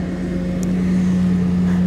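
A trailer-mounted cold-water pressure washer driven by a Honda GX390 pull-start engine runs steadily in bypass mode, giving a loud, constant, close mechanical drone with a strong low hum and no talking.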